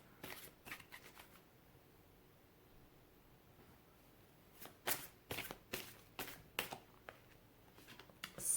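Tarot cards being shuffled close up, first a light riffle, then a quiet pause, then a run of crisp, flapping shuffle bursts in a fairly regular rhythm.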